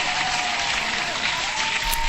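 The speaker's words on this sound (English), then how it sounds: "so I want to hand clap for you guys." Clapping during a crypto market news broadcast, a continuous dense burst of applause with a faint steady tone underneath, evenly loud throughout with no talk.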